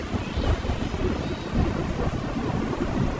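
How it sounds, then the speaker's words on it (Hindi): In an animated story scene, a thunderstorm rumbles over steady heavy rain, a dense roaring downpour with deep thunder swelling throughout and no talking. "लाडो, बच्चे और बल्लू अपने आंखों में आंसू लेकर उस तेज बारिश और तूफान में अपने टूटे हुए घर को छोड़कर वहां से निकल पड़ते हैं।"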